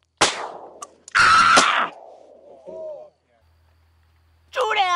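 Shotgun blasts fired at ducks during a mic'd-up hunt, two sharp loud bangs close together with decaying echo, followed by duck-call quacking and a voice at the end.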